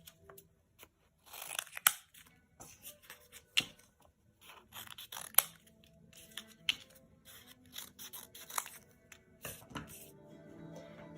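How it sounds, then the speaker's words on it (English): Scissors cut paper into small pieces with a series of crisp, close snips and rustles in irregular bursts separated by quiet gaps; no voice is heard. "so you cut the papers into small pieces like this"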